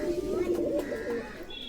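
A Fantail pigeon coos in a low, steady, rolling call close to the microphone, continuous across the whole moment with a faint higher tone near the end.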